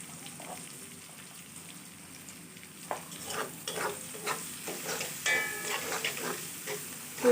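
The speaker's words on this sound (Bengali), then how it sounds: "পেঁয়াজ এবং মরিচটাকেও সুন্দর করে ভেজে নেব।" Onions and chilies frying in a pan with salt and turmeric, giving a quiet crackling sizzle and scattered stirring clicks that grow busier toward the end.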